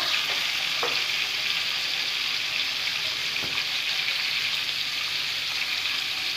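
Semolina fries in a pan for upma, giving a steady, close sizzle throughout with a few soft knocks of stirring.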